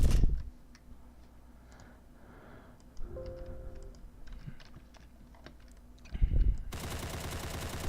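Submachine gun fire in the video game Dread Hunger: short bursts of rapid shots at the start, around three seconds and near six seconds, with a quiet ticking lull between them and a dense rattle at the end.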